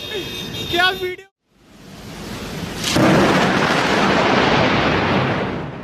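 A sharp, loud thunderclap bursts out after a brief silence and rolls into a sustained, heavy rumble mixed with steady rain. A voice is heard briefly just before the strike.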